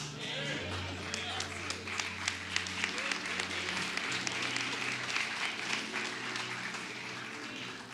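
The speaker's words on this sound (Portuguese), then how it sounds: "O Rock está ajudando nas palmas hoje" Church congregation clapping and applauding during a sermon, with rhythmic claps over a sustained low musical drone and some voices mixed in.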